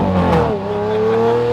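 Lamborghini V12 engine revving steadily while the car drives, a loud, close, sustained roar with a slight dip and recovery in pitch.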